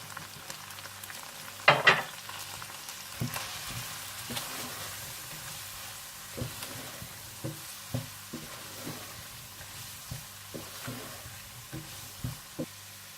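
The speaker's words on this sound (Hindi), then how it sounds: "जब चिकन अच्छा सा भुन जाए तो आप इसमें मैदा डालकर 1 से 2 मिनट के लिए भून लें" Chicken and flour fry quietly in a pan for chicken macaroni with white sauce, a soft steady sizzle broken by a sharp clatter early on and regular light stirring taps, close and fairly faint.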